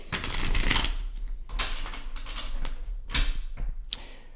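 Tarot cards are shuffled by hand during a reading, giving several bursts of papery riffling and flapping with brief taps in between, close and fairly loud, with no voice.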